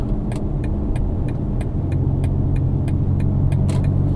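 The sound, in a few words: BMW X3 M50 exhaust and engine while driving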